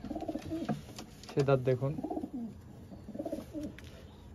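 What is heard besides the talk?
pigeons cooing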